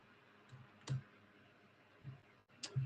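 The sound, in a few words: typing and clicking on a computer keyboard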